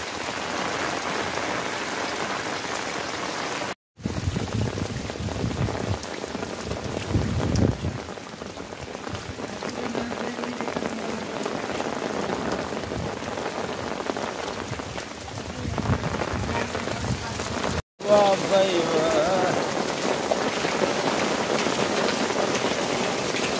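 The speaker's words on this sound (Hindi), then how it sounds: "थोड़े टाइम में इतना ज़्यादा बारिश और पानी पानी" Heavy rain pours steadily onto a flooded village street in rural Punjab, Pakistan, a loud, dense hiss of drops hitting water and surfaces that continues without a break, with possible distant thunder.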